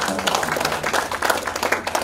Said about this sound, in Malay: Kita berikan tepukan